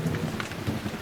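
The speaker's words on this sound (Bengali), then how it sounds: "মুষল ধারায় বৃষ্টি নেমে এলো" Heavy rain pours down with a rumble of thunder, a loud, dense downpour used as an effect in a Bengali audio story of a sudden monsoon storm, with no voice over it.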